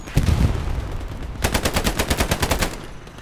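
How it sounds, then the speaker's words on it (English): Enemy machine-gun fire in the World War II shooter Hell Let Loose, a fairly close burst of rapid shots after an opening heavy report, with no talk over it. "I think that's the guy shooting us where I pinged"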